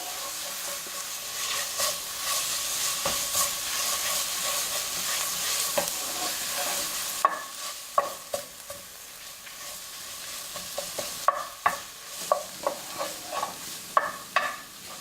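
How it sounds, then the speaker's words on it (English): Ginger garlic paste being stirred into chicken in a hot pan for a green mango chicken dish, with a steady sizzle and the repeated scrape of a spoon against the pan, sharper knocks toward the end. "1 tablespoon of ginger and garlic mix paste. And mix it well."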